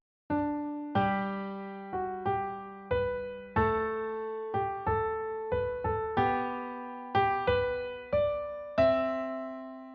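A plucky 8-bit chiptune bass line using chord inversions steps through a series of notes, each struck sharply and decaying, moving in a steady, uplifting pattern with no voices.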